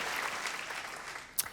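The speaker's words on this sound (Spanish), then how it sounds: "¿Por qué no damos una ofrenda de palmas todos juntos?" A church congregation claps together during a sermon, a steady, moderately distant wash of applause that holds evenly and then fades out.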